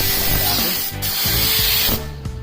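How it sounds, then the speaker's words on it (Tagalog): A paint spray gun gives a loud, continuous close-up hiss that cuts out briefly for a moment and then resumes, with a few faint knocks and handling sounds underneath. "Kasi ang mga spray gun sa Pilipinas na mga local ay hindi ganyan na kanyang bukas."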